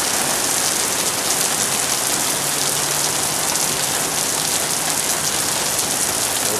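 Steady rain falls outdoors in hot weather as a dense, loud, even hiss of drops pattering on surfaces, unbroken throughout with no voices.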